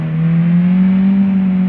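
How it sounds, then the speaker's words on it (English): Loud car engine with no muffler in a video game, droning steadily at a low, even pitch for a brief stretch, with no talk. "this car is loud."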